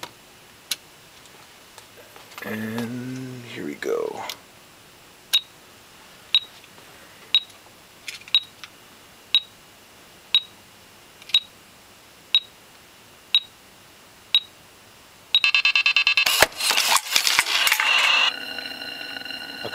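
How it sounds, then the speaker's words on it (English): A homemade bomb defusal countdown timer ticks with about ten sharp, evenly spaced beeps, one per second, after a brief spoken line, ending in a loud burst of electronic noise when the count runs out. "let's start the timer again. 10 seconds"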